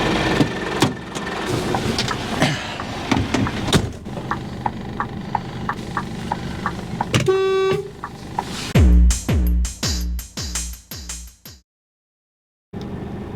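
A CE-category truck with a coupled trailer idles steadily while a short horn blast sounds midway through. Several clunks follow before the engine noise cuts out.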